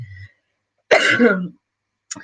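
A single harsh cough bursts out after a short pause, with a faint voice briefly before it and a small throat sound at the end.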